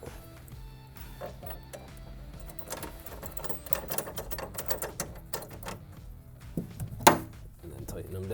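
Small bolts with lock and flat washers being threaded and tightened by a 9/16 socket while fitting a Bakflip X4S tonneau cover rail on a Toyota Tacoma: rapid close clicking and ratcheting with scattered taps, one sharper clank near the end.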